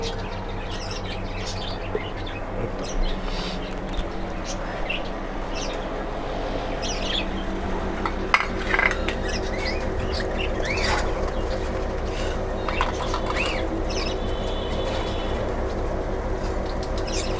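Caged birds in flying cages for males and females chirp, tweet and squawk continuously at moderate volume, with sharp calls scattered over a steady room hum and no speech.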